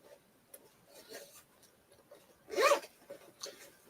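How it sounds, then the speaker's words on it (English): Zipper on the inner pocket of a deep red Rossetti handbag, a few soft ticks and handling noises followed by one brief, louder zip pulled close by. "A zipper pocket on the inside."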